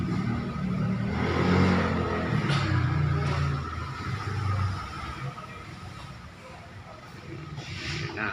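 A motorized tricycle's engine runs close by, a steady mid-pitched drone that swells and eases as it idles and revs, with faint voices in the background.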